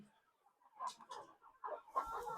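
Desi egg-laying hens, Rhode Island Red and Black Australorp, cluck in short, soft bursts that grow busier toward the end, close by with no talking.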